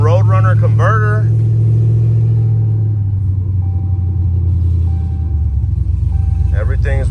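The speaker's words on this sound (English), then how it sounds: "We're going to the exhaust shop, so it's real loud." A 2013 Dodge Ram single cab pickup with a swapped TRX supercharger and a small-stall converter runs loud with deep, steady rumbling, heading to an exhaust shop, while someone talks over it at the start and end.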